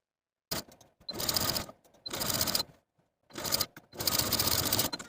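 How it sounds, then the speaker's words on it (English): A home sewing machine edge stitches the center back seam of a Style Arc Shannon jumpsuit, running in several short bursts of rapid stitching with brief pauses between, close and clear. "then edge stitch close to that inner folded edge from bottom"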